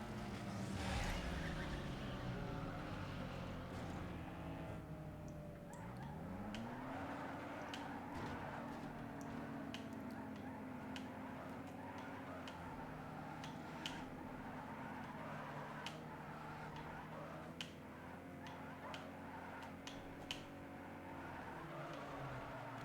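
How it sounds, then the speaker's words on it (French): A car drifts in the racing game Need for Speed Underground 2, its engine droning steadily with revs rising and falling and occasional tyre squeals, continuous and moderately loud throughout. "Voilà, le drift sur Underground 2."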